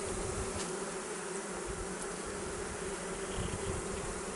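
Honeybees buzz steadily and densely inside an open Spanish Layens hive of natural comb, a close, continuous hum with no pauses.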